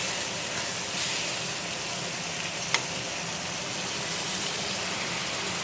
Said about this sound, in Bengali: একদম লাল লাল করে ভেজে নিচ্ছি